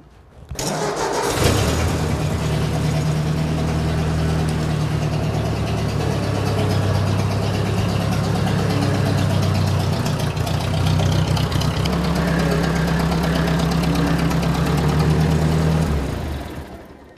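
A 1957 Ford 841 tractor engine cranks and catches, then settles into a steady, loud, continuous idle with a slight shift in tone partway through before cutting off.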